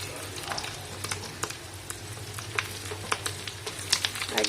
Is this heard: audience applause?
no